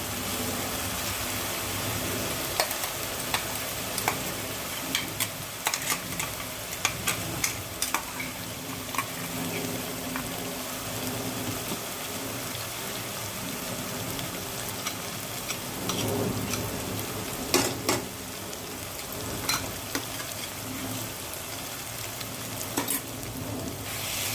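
Garlic and green chilies frying in a pan for a spicy cauliflower roast, a continuous sizzle broken by sharp scraping stirs and clicks of a spatula, close and moderately loud.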